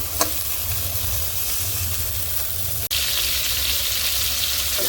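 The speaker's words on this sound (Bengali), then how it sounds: "একটু বেগুনটা ভেজে এরপর ডিমটা ভেজে তরকারিটা বসিয়ে দেবো" Continuous crackling sizzle of eggplant frying in hot oil, steady and close, briefly cut by a click before resuming slightly louder.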